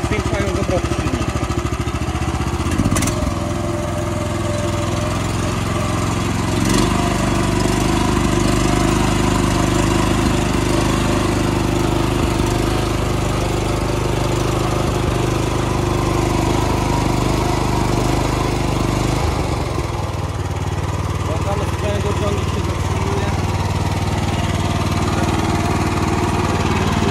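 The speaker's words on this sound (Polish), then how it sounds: "Możemy troszkę przyspieszyć, zwiększając obroty silnika." The 13 HP engine of a Motor Sich single-axle walking tractor runs loud and close while ploughing, a steady throbbing drone that rises in pitch as it revs, with someone talking over it.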